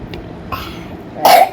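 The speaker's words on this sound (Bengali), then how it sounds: "আসতে ওই কাশি, এত কাশি।" A single sharp cough bursts out near the end, preceded by faint scattered household noises in an otherwise quiet room; it sounds like someone with a throat ailment being treated with an inhaler.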